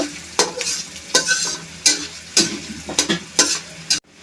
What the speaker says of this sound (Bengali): ডালটা একটু তেলে ভেজে নেব।